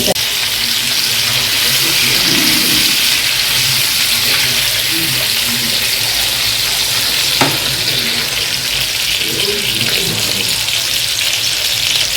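Pomfret fish frying in oil on a pan (penam), a steady, loud broadband sizzle that holds for the whole stretch, with a few faint clinks and stirring noises now and then and no talking.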